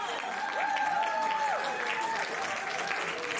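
An audience at a university talent show on the red carpet breaks into steady, full applause that carries through with a faint whistling or tonal call above the crowd noise.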